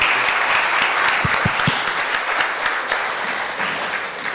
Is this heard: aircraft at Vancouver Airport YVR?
no